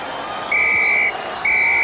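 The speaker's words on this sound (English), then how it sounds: "And there goes the final whistle." A referee's final whistle in a football video game blows twice, two long steady high blasts with a short gap between, over a faint crowd murmur.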